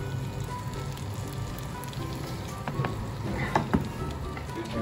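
Steady crackling sizzle of chicken, garlic and egg frying in a pan, continuous and close, with a few sharper pops near the end.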